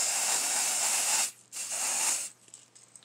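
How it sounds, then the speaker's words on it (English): An aerosol spray hisses steadily onto the hairline of a wig, a close continuous burst of over a second, a brief gap, then a second similar burst before it stops. "So I just basically just sprayed that just a little bit"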